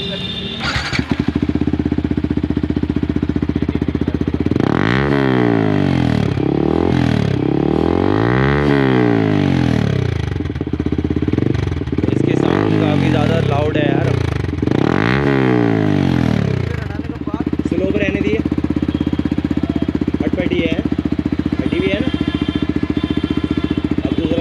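A Yamaha R15M motorcycle fitted with a full system exhaust revs repeatedly and loudly up close, its engine climbing and falling several times before settling into a steady idle.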